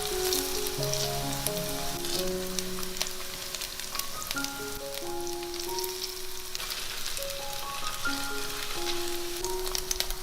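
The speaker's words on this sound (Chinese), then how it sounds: "一面煎金黄了，就翻另外一面。" Flipped lotus root dumplings with meat filling keep frying in a shallow oiled pan, a steady close hiss with occasional sharp crackles that runs beneath light background music.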